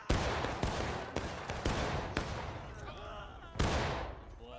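Rapid bursts of gunfire crack out during a Civil War style reenactment battle, several loud shots in quick irregular succession with one final blast after a short pause, voices shouting faintly in the background.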